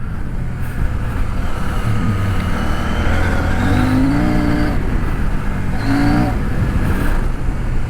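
A CF Moto 800MT motorcycle's engine drones loud and close while riding, rising in pitch as it revs through the gears with audible shifts, steady throughout under heavy wind noise.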